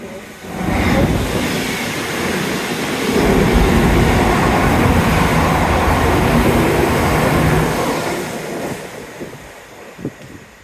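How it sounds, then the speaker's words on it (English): A fast non-stopping train roars through a station on a rainy day, a loud sustained rumble with wind-like rush that builds quickly, holds for several seconds, then fades away. "we've got a fast train coming that doesn't stop here"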